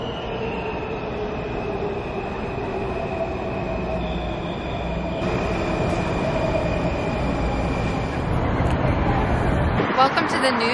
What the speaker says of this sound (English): we're going to take the Metro downtown